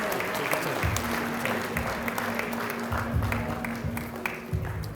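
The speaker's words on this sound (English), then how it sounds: "Let's give him a big round of applause." A crowd applauds an original member of a band, a fairly quiet, steady patter of clapping with low, rhythmic musical thumps and a hum running underneath, some brief sharper claps standing out.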